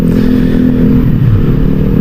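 A noisy motorcycle passes close by, its loud, rough engine roar rumbling steadily for about two seconds with some clattery rattle and no talking.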